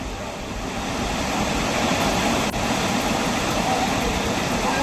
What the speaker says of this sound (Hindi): बारिश का पानी रिहायशी इलाकों से बह रहा है